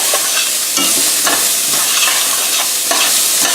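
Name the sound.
onions sizzling and browning in a hot skillet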